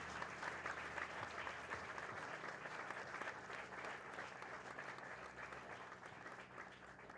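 A church congregation at an evangelical Baptist service claps together in steady, even applause that stays fairly faint and continuous throughout, with no voices over it.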